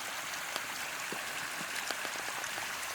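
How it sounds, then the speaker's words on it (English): Water pouring down a cliff face as a waterfall in remote wilderness, a steady broadband rushing hiss with scattered splashy patters, continuous and close, with no talking. "this whole cliff is just water pouring down, and it's super cool"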